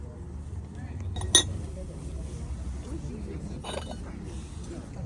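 A single sharp clink of porcelain saucers from the Baranivka porcelain factory knocking together, followed by a fainter rattle, with a voice talking quietly in the background at a flea market.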